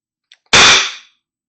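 A single sharp shot from a Beeman BP-50 air pistol firing a Delrin projectile, close and loud, with a soft click just before and a brief fading tail, no talk.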